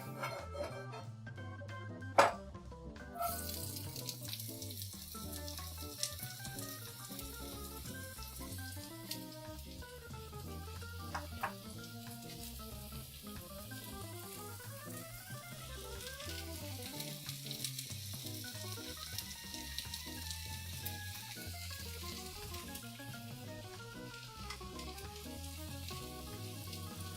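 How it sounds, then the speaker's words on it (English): Steady crackling sizzle of food frying in a pan for mushroom stew, a dense continuous hiss with scattered pops and a brief clatter early on, no voices. "Sizzling time."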